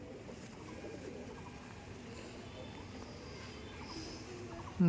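Soft, low cooing of Madrasi pigeons murmurs quietly in the background, steady and faint throughout.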